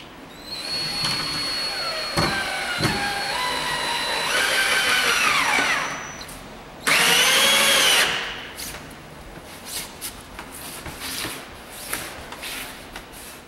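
A power drill drives screws into a storefront fixture in short whirring bursts that rise and wind down, with one louder high-speed run partway through, close-up and without talk.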